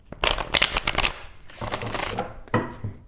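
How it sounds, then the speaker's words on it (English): A deck of tarot cards is riffle-shuffled up close, giving quick papery flutters in two main bursts, then a short snap of cards settling at the end, with no voices. "Let's shuffle the deck again."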